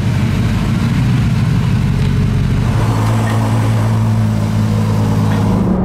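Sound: car engine while cruising

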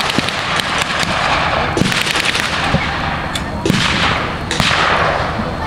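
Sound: artillery fire at a WWII battle reenactment

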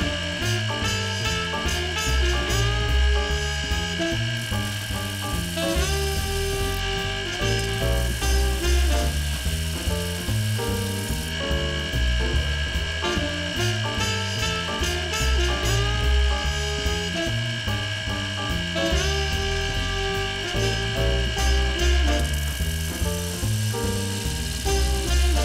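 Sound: homemade sanding machine running

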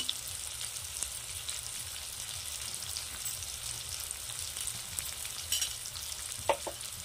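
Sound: masala with chilli powder and garam masala being fried

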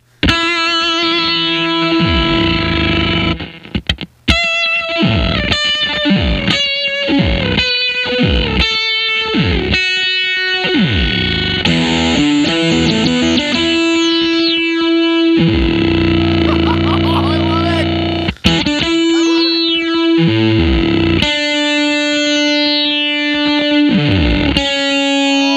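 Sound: guitar riff through Subdecay Harmonic Antagonizer effects pedal

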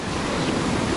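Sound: sea waves on the shore at Dagomys, Sochi

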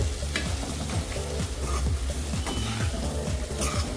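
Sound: potatoes being roasted and stirred with spices in a pan

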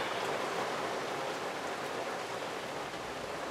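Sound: rain falling outside

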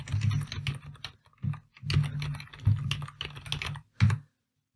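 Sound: typing data on a computer keyboard into Excel

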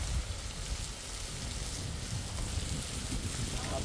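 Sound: strong wind blowing outdoors at a mountain house

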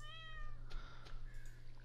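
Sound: cat meowing in a video game

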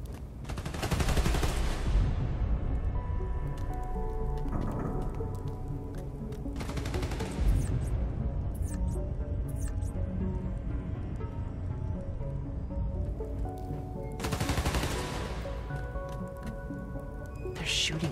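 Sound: gunfire in Spider-Man Miles Morales video game

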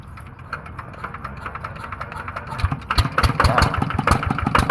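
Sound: used motorcycle engine started and idling

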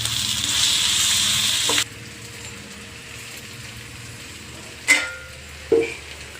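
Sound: coconut and spices frying in oil

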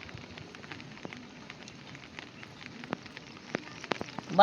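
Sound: drizzling rain

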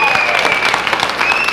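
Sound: audience applause for a singer on stage

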